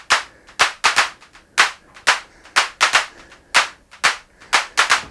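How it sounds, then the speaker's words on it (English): Drum machine clap samples from an Elektron Octatrack fire in a fast, busy pattern: a loud, close string of sharp, snappy claps, some landing in quick pairs, with a short decay after each one. "I'm gonna have a couple of more claps happening."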